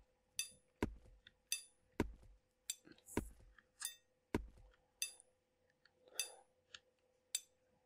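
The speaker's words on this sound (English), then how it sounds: "it's our stonemason. Gonna be masoning that stone." A stonemason chisels stone in the Timber and Stone game, sharp ringing taps struck in a steady rhythm about every half second to second, each a crisp metallic clink with a short decay, over a faint background hum.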